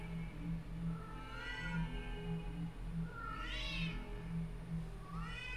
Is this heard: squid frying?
no